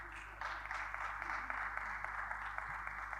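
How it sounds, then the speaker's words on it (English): Applause from a conference audience for panelists at an African football agents gathering, a steady wash of many hands clapping at moderate level over a constant low hum, lasting the whole stretch. "On applaudit encore pour nos panélistes"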